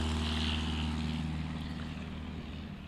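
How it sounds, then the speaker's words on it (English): A STOL propeller airplane takes off during a National STOL qualifying competition in Central Florida, its engine droning loud and steady and easing slightly as it pulls away. "Nice takeoff."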